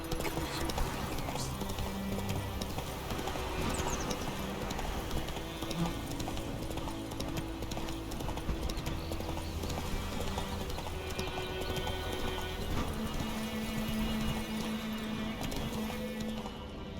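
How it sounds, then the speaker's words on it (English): A horse's hooves clop steadily on the ground in the video game The Witcher 3: Wild Hunt, a continuous rhythmic beat beneath ambient game sound with a brief whinny. "Whoa there, Roach."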